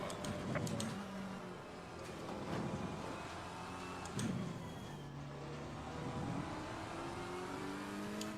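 Race car engines in the Assetto Corsa Competizione racing game at Misano, several revving and accelerating passes rising and falling in pitch at moderate distance, heard alone without voices.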